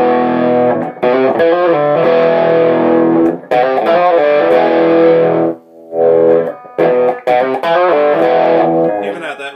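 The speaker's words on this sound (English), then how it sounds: "I was still getting some decent amount of distortion out of it" Electric guitar played through a VFE Pedals Megapedal distortion pedal, loud sustained chords and notes with short pauses between phrases.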